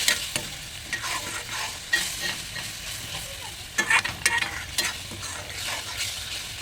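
Spices frying in a pan with a little water, a steady close sizzle broken by repeated scrapes and knocks of a spatula as the mixture is stirred.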